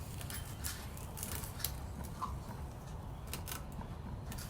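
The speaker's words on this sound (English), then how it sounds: "So now I'm gonna go ahead and remove that tape slowly" Painter's tape peeled slowly off a wood panel painted with a Texas flag, giving a quiet, steady run of faint crackling and tearing rasps with no voices.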